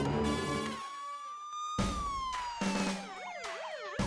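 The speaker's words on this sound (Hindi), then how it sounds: "ये सायरन बंद करो।" A police car's siren sounds loud and close, switching between long wails and rapid warbling yelps, with brief cutoffs between bursts during a nighttime call in a comedy show.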